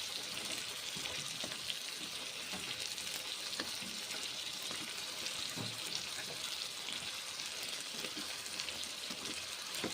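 Ridge gourd and spices frying together in a pan, a continuous even sizzle with faint crackles and light stirring throughout, close-up with no voices.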